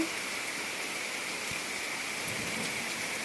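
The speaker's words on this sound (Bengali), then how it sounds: "আর এই যে বৃষ্টি নেমে গেছে, ভালোই বৃষ্টি পড়ছে, তার সাথে বিদ্যুৎ চমকাচ্ছে।" Heavy early-afternoon rain pours down in a dense, even hiss on surfaces, steady and unbroken for the whole stretch, with no voices.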